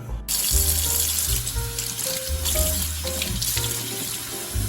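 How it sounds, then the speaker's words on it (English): Fresh basil rinsed under a running kitchen tap, a steady close splashing stream of water with faint thumps and brief tonal clinks underneath, no talk. "our next order of business is going to be washing and chopping the basil"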